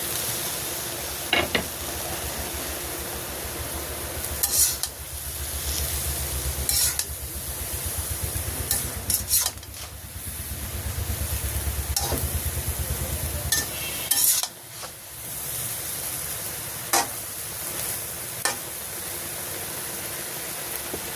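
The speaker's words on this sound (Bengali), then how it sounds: "তো আমি এখন ঢাকনাটা খুলে লবণটা মিশিয়ে দিই।" Salt being stirred into taro greens cooking with hilsa fish in a pan, heard as a constant hissing sizzle with scattered scrapes and clinks of a spatula, close up.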